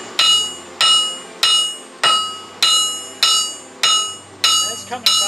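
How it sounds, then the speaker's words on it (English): Metal part of an axe catapult being restored, struck by a hammer about eight times at a steady pace; each blow gives a sharp, ringing clang that decays before the next hit. "I'm just going to try hammering it."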